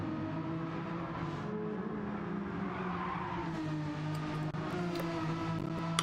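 A Renault Megane race car in Gran Turismo 7 drives during qualifying, its engine a steady droning hum with a light tyre hiss, fairly faint and continuous throughout.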